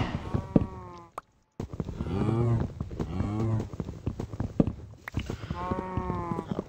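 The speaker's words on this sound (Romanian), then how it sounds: "Uite, mă atacă vacile." Cows in Minecraft give several close, drawn-out moos, one after another, with footsteps tapping between them.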